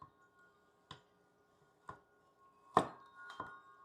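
A slicing device cutting through ribeye steak gives sharp, isolated clicks and chops, about five dry strikes spaced roughly a second apart, close and fairly quiet against near silence.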